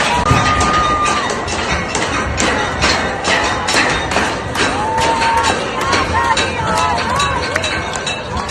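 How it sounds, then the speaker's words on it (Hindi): Large crowd gathered in Tehran outside Imam Khomeini's house and office, cheering and shouting continuously, loud and dense, with rhythmic thumps, whistles and individual voices rising above the roar. "वहां पर यह भीड़ पहुंच गई और उस भीड़ का मंजर ये है।"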